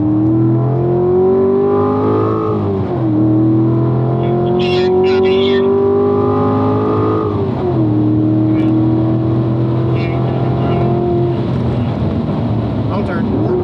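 Corvette engine on a race track heard from inside the car, a loud sustained drone that climbs in pitch, drops at shifts and climbs again, with an instructor talking over it.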